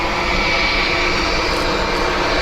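A Turkish Airlines jet departing Dublin Airport for Istanbul, its engines a loud, steady, full roar that holds at constant strength throughout, without voices.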